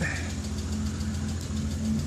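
A 2.0L AEG engine in a VW car idling steadily nearby, a low even hum with faint ticking in the background, no talk.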